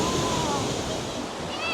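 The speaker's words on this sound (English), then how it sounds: "Whoa, look at that waterfall. It's so powerful." Powerful waterfall in Vintgar Gorge, a steady broadband rush of falling water, close and loud throughout, with a faint high whistle near the end.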